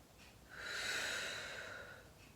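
One long, steady exhale through the mouth during a stretching class breathing exercise, swelling and easing over about a second and a half, close and fairly clear with no talk.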